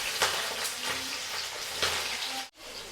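Onion frying in hot oil in a home kitchen pan, a dense continuous sizzle with faint stirring scrapes, close and steady, then cut off sharply at the end.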